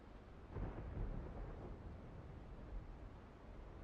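Thunderstorm in a video game: a faint, low rumble of thunder swelling and fading over steady rain-like noise, distant and quiet, with no speech.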